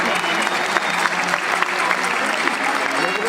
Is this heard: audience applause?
yes